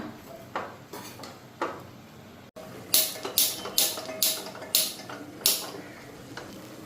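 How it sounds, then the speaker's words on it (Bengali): A spoon knocks and scrapes around a small wok of curry that keeps wobbling on the stove, giving a run of rhythmic metallic clanks and rattles, close and fairly loud with no talk. "তো তরকারিটা একটু লাড়তে কষ্ট হইতেছে, কড়াইটা খালি হিল্লা দিতেছে।"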